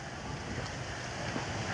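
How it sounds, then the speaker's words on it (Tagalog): Strong wind blows at a home in Bohol in the aftermath of Typhoon Odette, a steady rushing roar with buffeting gusts against the microphone and no voices. "nagihapon ang hangin kusog kaayo"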